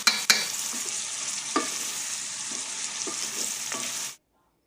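Onions, garlic and ginger fry in hot oil, cooking until light pink: a steady bright sizzle punctuated by a few sharp stirring clinks and scrapes, ending abruptly.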